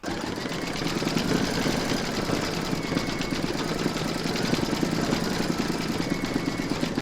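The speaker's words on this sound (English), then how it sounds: "you're going to stitch round number 5" An embroidery machine stitches a snowman's carrot nose in the hoop with a rapid, even mechanical chatter that runs continuously at moderate volume with no voices.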